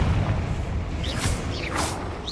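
Confringo fire spell bursting in Hogwarts Legacy, a dense rumbling boom with whooshing swishes through a steady game soundscape, loud and close, no voices over it.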